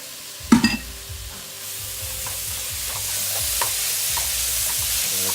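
Shallots and garlic frying in a pan, opening with a few sharp clattering stirs, then settling into a steady, loud, close-up sizzle with light spoon scrapes.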